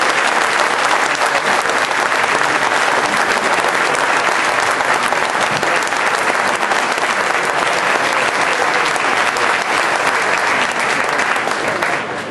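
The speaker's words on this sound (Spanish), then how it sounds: "Y me gustaría que todos nosotros hiciéramos un aplauso" Audience at a Ciudadanos de Cataluña association gathering gives loud, sustained applause, a dense even wash of clapping lasting about twelve seconds with no talk.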